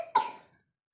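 A single short cough, close and fairly quiet, with a brief breathy tail and no talk.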